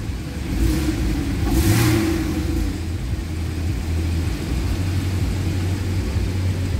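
A 2013 Porsche Cayman in Sport Plus mode revs hard up close, its engine roaring up and then settling into a deep, steady idle rumble with no voices.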